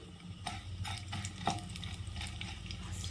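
Tempering spices pop and sizzle in hot oil in a kadai for carrot curry, mixed with several sharp metallic clinks and scrapes of a ladle against the pan, fairly quiet and without speech.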